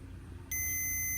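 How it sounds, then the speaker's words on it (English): A multimeter on continuity test against an AC unit's capacitor gives a sudden steady electronic beep that starts partway in and holds, bright and clear over a quiet low hum. "if this beeps that means we are in good condition"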